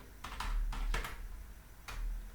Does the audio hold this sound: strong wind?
no